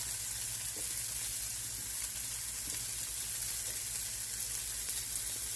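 Onions sizzle steadily on a grill, a constant bright hiss over a low hum with no voices.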